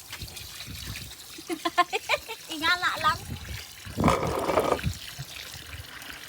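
Water is poured while pig chitterlings are washed by hand in the Philippines. Voices talk first, then a short, loud splashing pour lasts about a second before fading.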